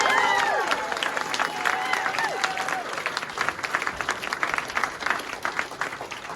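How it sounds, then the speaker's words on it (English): Speedway fans applaud and cheer a Belle Vue rider at a press conference, a moderate burst of clapping mixed with crowd hubbub, with a voice briefly rising over it early on. "let's have a huge, huge round of applause"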